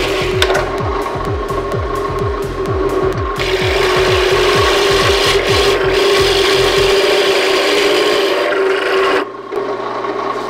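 A power drill grinds steadily into hard oak, boring holes for propagation tube stands: a loud continuous rasping whine with rapid rhythmic pulsing, then slowing and cutting off near the end.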